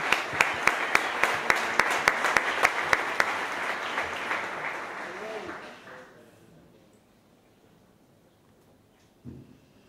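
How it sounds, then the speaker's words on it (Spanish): Audience applause, dense and loud for about five seconds, then fading out into quiet room noise. "me gustaría pedirles amablemente que les aplaudan, porque se lo merecen"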